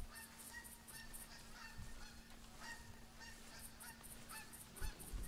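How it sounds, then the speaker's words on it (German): Geese honking in the hunting game The Hunter 2016, a flock calling repeatedly from a distance in rhythmic bursts over a low steady hum, fairly faint with no voices. "Gänse."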